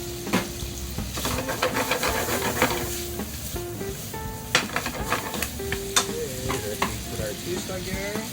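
Olive oil sizzling in a frying pan with shrimp, a continuous close hiss broken by crackling pops and clattering stirs of a utensil, fairly loud, no talking.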